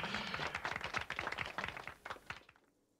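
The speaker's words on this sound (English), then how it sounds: "A rather lonely applause echoes through the mostly empty cafeteria." A thin, scattered round of clapping from a few people echoes through a nearly empty cafeteria in the Disco Elysium game, close and uneven, thinning out and stopping after a couple of seconds.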